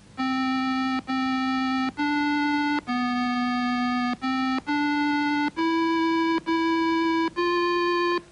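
A synthesized melody of nine evenly spaced electronic tones, each a bright buzzy note with slight pitch changes, played alone at a steady rhythm.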